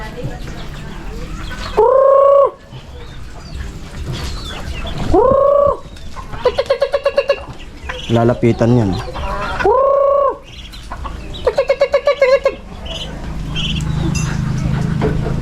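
Chickens cluck in repeated loud bursts, several close calls spaced across the stretch, with a person talking quietly between them in a rural yard.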